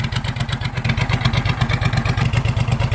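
A loud, lumpy hot rod tractor engine idles nearby with a steady throbbing rhythm and mechanical clatter, no voices over it.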